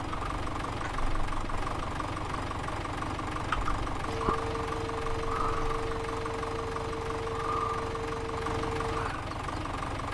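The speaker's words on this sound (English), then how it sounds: "I'll leave the engine running for a few minutes," In a farming video game, a farm vehicle's engine idles at a low, steady level, with a faint mechanical hum and a thin sustained tone partway through.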